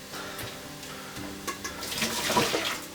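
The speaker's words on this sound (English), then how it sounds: "we're going to drain out the water" Soaking water drains from chopped vegetables for a Japanese vegetable curry, a rushing, splashing pour into a kitchen sink that swells louder toward the end.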